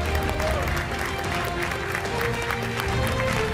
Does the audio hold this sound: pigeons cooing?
no